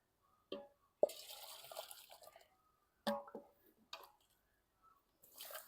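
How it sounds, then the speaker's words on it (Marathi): Boiled water is scooped out of a pot in a home kitchen while preparing wheat kurdai, heard as a few close splashes, drips and pours separated by quiet gaps. "आता याच्यातलं आपल्याला अर्ध भगुनं पाणी काढून घ्यायचं आहे."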